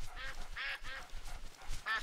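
Ducks quack in the Duck Dynasty hunting video game, several short nasal quacks scattered over a low, busy game background with no speech.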